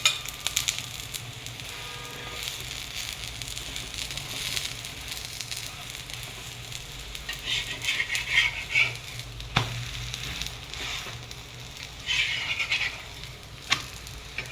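Pudla batter cooks in a little oil on a pan until browned on both sides, giving a steady soft sizzle with light crackles throughout, close and moderately loud, with a few sharper pops and no talk.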